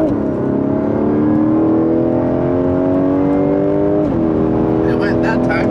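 BMW F10 M5 engine with traction control off, loud and close, accelerating hard with rising revs, then a quick short shift near the end that drops the pitch before it climbs again.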